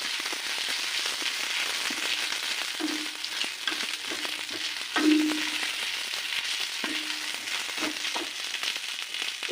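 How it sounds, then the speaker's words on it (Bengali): Garlic paste and chopped dry chilli frying in oil for chicken Manchurian, a dense, steady hiss like rain with a few low clinks and scrapes of a spoon in the pan, close by and without talk. "তেলটার মধ্যে আমি একটু রসুন বাটা আর একটু শুকনো লঙ্কা কুচি দিয়ে ভালো করে"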